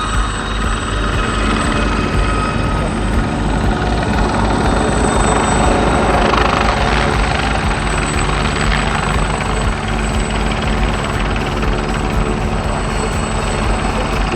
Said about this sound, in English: Looking at the helicopter on the left is the Gazelle and the right the BK117.